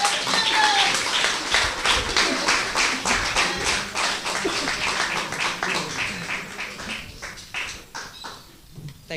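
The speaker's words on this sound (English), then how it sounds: "Give her a round of applause." An audience at a DLP branch meeting in St. Michael North applauds a speaker as she is welcomed to the podium, dense sustained clapping holding steady for several seconds before thinning out toward the end.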